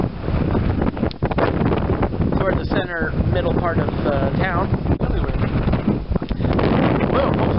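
Strong wind buffets the microphone with constant loud rumbling and gusting, while a person speaks underneath the roar.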